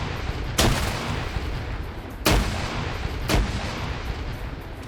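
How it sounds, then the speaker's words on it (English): Grenade blasts and gunfire echo through a military video game: three sharp, loud explosions arrive at irregular gaps over a constant rattle of distant shooting, with no voices. "There is just so many grenades going off"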